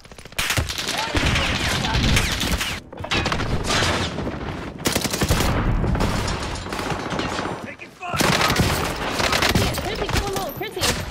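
Heavy gunfire from the video game Rebirth, with rapid automatic bursts and repeated shots in long loud stretches and brief pauses between them, and talk mixed in.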